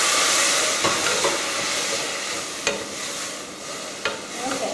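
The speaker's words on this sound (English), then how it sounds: "Stir up our onions, add a little water, it's going to steam here." Chopped onions and jalapeño with a splash of water steam and softly sizzle in a pot while a spoon stirs, giving a few sharp scraping clinks over a continuous gentle hiss.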